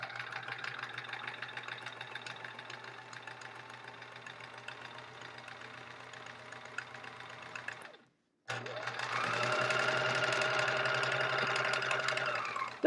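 A sewing machine free-motion stitches fabric for an envelope pillow case, whirring steadily up close, stopping briefly, then resuming at a louder, faster pace.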